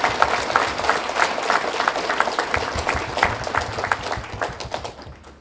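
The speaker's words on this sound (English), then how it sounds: "So a big round of applause" Lively audience applause at a college campus expansion ribbon cutting, dense rapid clapping from a crowd, loud and sustained for several seconds before tapering off.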